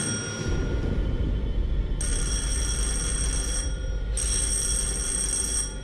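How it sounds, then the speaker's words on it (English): A bell rings in two distinct bursts, bright and sustained, over a constant low background hum. "The angels are even sadistic enough to ring the doorbell"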